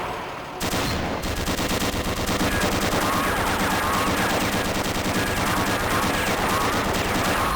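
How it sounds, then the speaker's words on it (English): Tank-mounted machine guns in the Gunman Chronicles game open fire inside an asteroid after a brief quiet start, then hammer on in one loud, dense, unbroken burst. "Press your crouch key to fire the machine guns."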